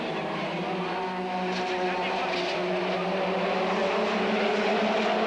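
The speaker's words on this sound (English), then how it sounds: "He's right up tight behind Andy Rouse's Sierra." BTCC touring race cars from the 1989 season, including a Ford Sierra, roar past in a sustained, loud engine drone that holds steady with slight rising pitch throughout, with commentary voiced over it.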